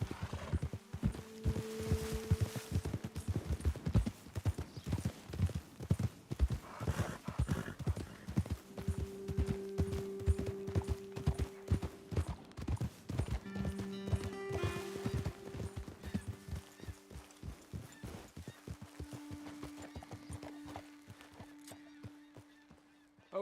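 In the video game Red Dead Redemption 2, steady hoofbeats of horses clip-clop at a walking pace, close and continuous, with occasional honks and whinnies mixed in before the hooves slow and stop.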